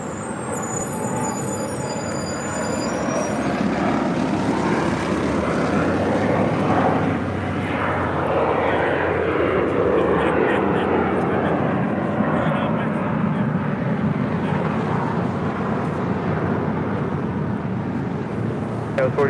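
An airliner at LAX airport, holding on runway 25 right: a steady, loud jet engine roar that builds slightly and stays constant, with radio voices heard over it.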